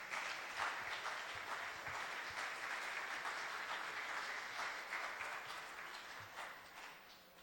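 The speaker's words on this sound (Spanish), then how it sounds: "Un fuerte aplauso para él, por favor." Sustained audience applause after a talk at a state materials science and engineering congress, a dense, even wash of clapping from a hall full of listeners lasting several seconds and slowly fading.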